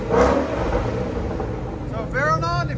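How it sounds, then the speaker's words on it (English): A car with an aftermarket exhaust system revving, a deep throaty engine rumble that rises near the end, while people talk over it. "Yeah, but now it sounds like a Mustang."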